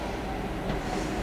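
A train arrives at a station in Strathclyde, giving a steady low rumble and rolling hum at moderate distance, with no talk over it.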